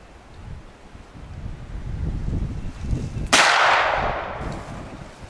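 A gunshot fired at a squirrel target during an outdoor meat shoot competition, a single sharp distant crack with a hissing tail, heard over steady wind buffeting the microphone.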